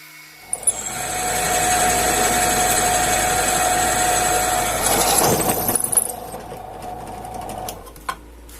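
A drill whines steadily into the cast iron coupling of a T-25 tractor, a sustained high motor tone lasting several seconds before spinning down, with metallic clatter and a clunk at the end.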